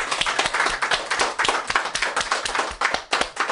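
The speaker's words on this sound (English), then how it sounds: "let's give yourselves a round of applause" An audience at a quilting show claps in lively, close applause, a dense run of sharp hand claps with no talk over it.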